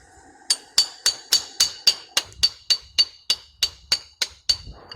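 A hammer strikes a steel chisel into a rock again and again, about fourteen sharp, ringing metallic clinks in a steady rhythm, close and loud, heard outdoors while rockhounding.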